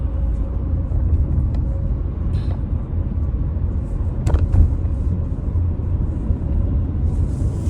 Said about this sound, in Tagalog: Grabe ka na ka traffic.